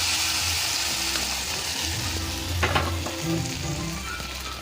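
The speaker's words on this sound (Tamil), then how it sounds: "கடுகு வெடிச்சிட்டு இந்த ஸ்டேஜில் வந்து கருவேப்பிலையும் இந்த சாம்பார் வெங்காயம் போட்டுக்கலாம்." Mustard seeds, curry leaves and small sambar onions tempering in hot oil, a loud continuous sizzle with crackling bursts and a brief stirring clatter midway, close up with no voices.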